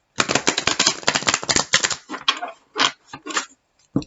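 Rapid, crisp riffling of tarot cards, a burst of quick flutters that slows into a few separate shuffling snaps, close and clear.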